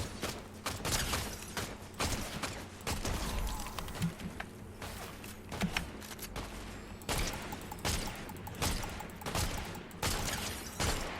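Rapid rifle gunfire in the video game Fortnite, bursts of repeated shots with short gaps, loud and close, along with game mechanism sounds and no talk over it.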